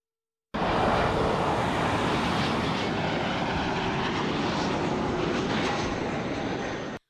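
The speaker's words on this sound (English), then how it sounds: "Airplane noise can sound extravagant and exciting for passersby" A fixed-wing airplane near Fresno Yosemite International Airport roars as a loud, steady broadband rumble that starts abruptly and holds for several seconds, with no talking.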